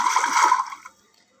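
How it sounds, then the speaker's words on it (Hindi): A purse drops into a water tank with a sharp, loud splash that quickly trails off into faint drips and gurgles, heard alone. "बटुआ उसके हाथ से सरका और छपाक से हौदी में जा गिरा"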